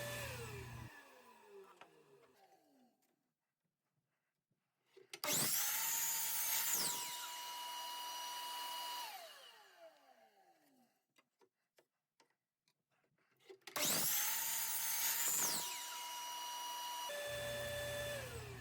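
A power saw tilted to a 54.7-degree bevel cuts wood in two separate passes, each one a sharp motor whine that spins up, holds through the cut and winds down, with quiet gaps and clicks in between.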